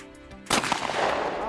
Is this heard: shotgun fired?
yes